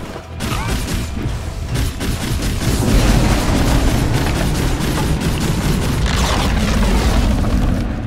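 Dota 2 match with Troll Warlord in play as the Dire top tower is destroyed: heavy booming explosions and crashing impacts roll on continuously, loud and dense throughout, growing fuller partway through.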